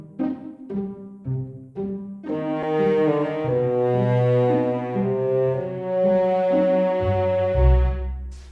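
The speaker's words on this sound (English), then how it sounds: "So for example, I have pizzicato and bassoon" A virtual orchestra patch layering pizzicato strings and bassoon: a few short plucked notes, then sustained low reedy tones with a melodic line over them, played alone.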